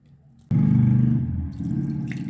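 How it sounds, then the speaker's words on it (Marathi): Curdled soybean paneer is poured from a vessel into a cloth tied over a pot, starting with a sudden loud gush of liquid that settles into a steadier pouring and draining sound. "एखाद्या भांड्याला कपडा असा बांधून घ्यायचा आणि पनीर त्या कपड्यामध्ये ओतून घ्यायचं"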